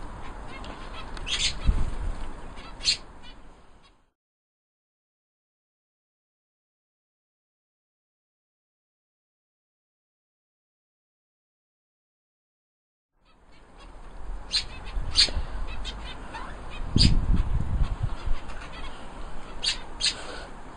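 Pet birds in an aviary, honking and squawking calls with wing flaps nearby, broken by a long stretch of silence before the calls resume.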